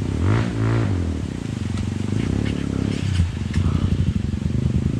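Motorcycle engine revs and labors on a steep uphill dirt trail, a loud, close throttle sound rising and falling in pulses, with some clatter.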